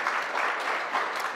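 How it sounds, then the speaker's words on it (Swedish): Applause from a seated audience at a live morning talk-show event in Smedjebacken, steady dense clapping filling the short moment, close and fairly loud with no speech. "Applåder."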